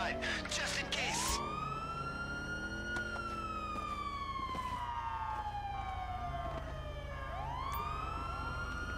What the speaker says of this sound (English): Yo, those sirens are everywhere.